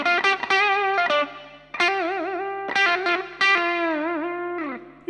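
Distorted electric guitar solo, Pulse version, played loud and alone with bent, sustained notes wobbling under heavy tremolo, chorus and reverb, phrased in several long swelling lines.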